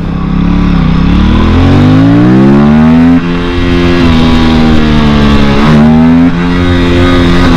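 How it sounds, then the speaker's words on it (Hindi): Aprilia RS 457 motorcycle accelerating hard in first gear, its loud close engine note climbing steeply in pitch, briefly dropping at a shift, then climbing again as revs build. "चेक करते हैं अभी फर्स्ट गियर पे डाल दिया हूँ"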